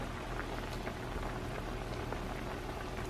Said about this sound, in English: we got the crawfish pot going.